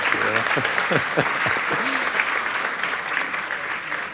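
Audience applause after a real-estate investment presentation, a steady wash of clapping heard close, while a voice talks briefly over the start.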